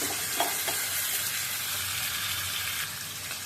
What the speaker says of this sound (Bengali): তেলে দিয়ে দিলাম তেজপাতা দিয়ে সবগুলা চিকেন আমি একসাথে ফেলে দেব।